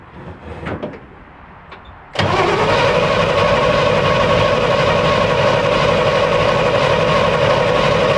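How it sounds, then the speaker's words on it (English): A Chevy truck engine is cranked with its fuel line disconnected, first quiet with a few faint clicks, then a sudden loud, steady mechanical whir that continues unbroken and close for several seconds. "now we're gonna crank it over for just a second and try to get all the fuel out from the fuel pump"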